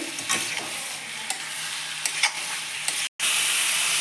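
Marinated chicken pieces fry in a pan over a medium flame for a spicy chicken curry, a steady loud sizzle with scraping stirs and clinks, broken by one brief silent gap.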